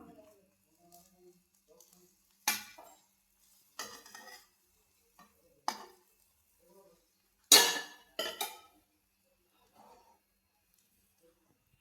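A dish or pot lid being closed and handled while preparing a carrot, egg, cheese and pepper dish: several sharp clinks and clatters in separate bursts, loudest near the middle, with quiet gaps between.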